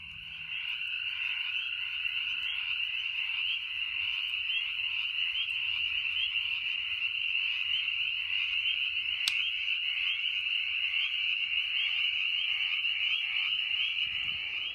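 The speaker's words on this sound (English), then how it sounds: "Oh, we got lots of frogs." A dense chorus of frogs croaks at a campsite in a pine grove, a loud, continuous trilling drone that holds steady throughout with no talk.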